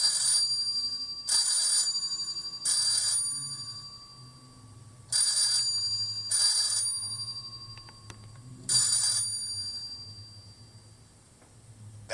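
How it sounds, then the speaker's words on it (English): A bright electric mine blasting bell signals ready to blast, ringing in repeated short bursts, each about half a second, with pauses between, fairly loud over a low background hum. "That's the bell signal for ready to blast"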